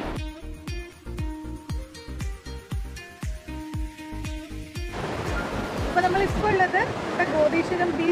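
Sea waves surge up onto Gotheeswaram Beach in Kozhikode, a broad rushing wash of surf that swells louder in the second half, after rhythmic pulsing sounds early on.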